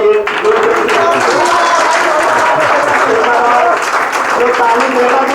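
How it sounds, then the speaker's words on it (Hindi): A classroom audience at a farewell for a sociology batch claps for their teacher, a loud dense wash of applause that continues for several seconds with voices mixed in. "सर के लिए 2 बार तालियां बजनी चाहिए।"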